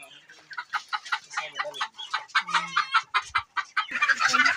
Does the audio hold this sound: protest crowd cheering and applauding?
no